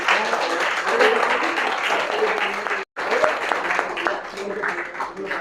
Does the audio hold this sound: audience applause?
yes